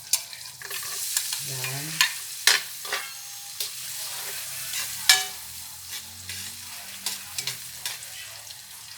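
Garlic stir-fried in a pan sizzles softly and steadily, broken by sharp scrapes and taps of a spatula stirring, and a single brief spoken word.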